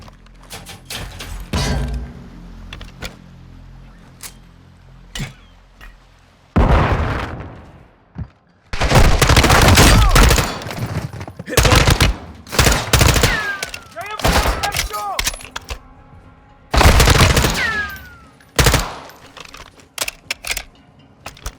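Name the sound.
gunfire and flashbang in Call of Duty Modern Warfare 2 video game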